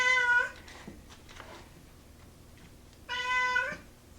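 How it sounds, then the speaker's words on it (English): A cat meows twice, a clear call at the start and another a few seconds later, heard close by in a quiet room beside a 1986 Husqvarna 181SE chainsaw being prepared. "you'll probably hear him meowing in the background there"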